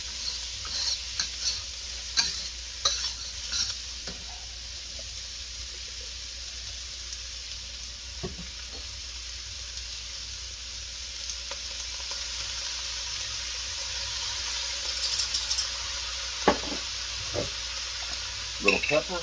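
Shrimp frying in a pan for keto shrimp fried rice, a steady broadband sizzle with scattered utensil scrapes and stirring knocks, fairly close and continuous throughout.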